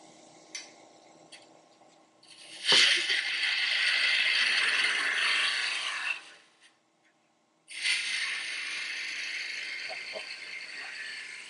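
Spindle gouge shaping a small wooden Christmas tree on a lathe, a steady rasping scrape in two long passes separated by a brief pause, fairly close and alone.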